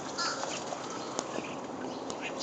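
Birds call at an outdoor feeding spot, with a few faint, scattered caws and chirps rising over quiet background ambience.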